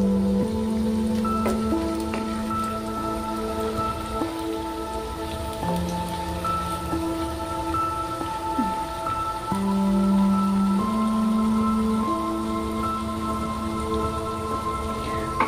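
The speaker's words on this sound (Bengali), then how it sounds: "আমি সবকটা এভাবে ভেজে নেব।" Carrot fritters (bora) deep-fry in hot oil with a dense, rain-like crackle and hiss that runs steadily throughout. Sustained melodic tones play over the sizzle.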